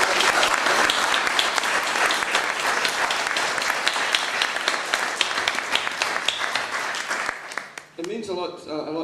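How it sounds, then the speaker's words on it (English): An audience at an exhibition talk gives a long, dense round of applause, loud and sustained for about seven seconds before thinning out, with a voice starting to speak as the clapping fades. "So I would like you to give a big round of applause to Malcolm, and indeed Ken and Harry"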